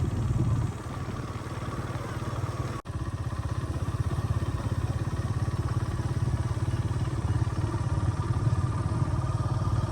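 A motorbike engine running steadily at low revs at a farm house, a close, continuous throbbing idle with a brief cut-out near the start before it carries on evenly, with no talking.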